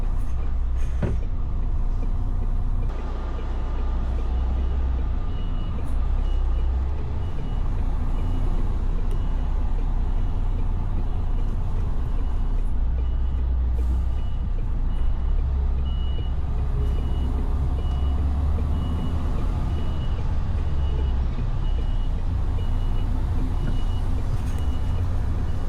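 A van gives repeated reversing beeps in a car park while a vehicle engine rumbles loudly and continuously underneath.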